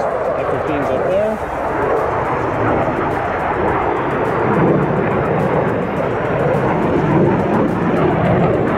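Airplanes, including T-6 trainers and F-15s, fly over the AirVenture Oshkosh airshow, producing a loud, continuous engine roar across the whole scene with outdoor crowd noise beneath it.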